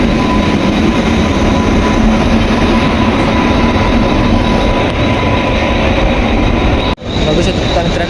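A train rumbles along in a loud, steady roar from inside the carriage, the noise briefly cutting out near the end.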